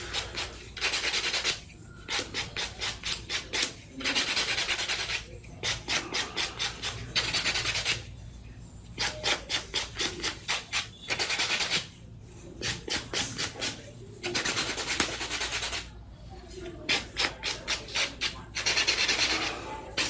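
A nail buffer rubs rapidly back and forth across long nails in short bursts of fast scratchy strokes separated by brief pauses, close and moderately quiet, with no talking.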